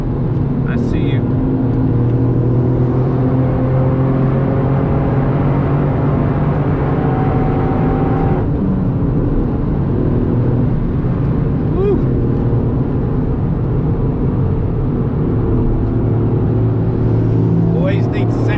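Toyota Yaris GR engine lapping the Nurburgring Nordschleife, a steady in-car drone with rising and falling harmonic tones as the revs change, continuous and loud, with someone talking over it throughout.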